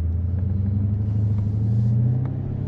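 A Dodge SRT Charger's engine holds a steady, loud low rumble at idle or light throttle, a deep continuous drone close by with no break across the whole stretch.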